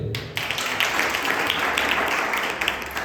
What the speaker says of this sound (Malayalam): നല്ലൊരു കൈയടി ഉണ്ട്.